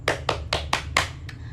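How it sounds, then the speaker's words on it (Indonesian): Children clap together in a classroom, six quick separate bursts of applause landing in an uneven rhythm over a low steady hum. The claps are fairly near and moderately loud, and no one speaks. "berikan tepuk tangan untuk teman kalian yang berdiri di depan"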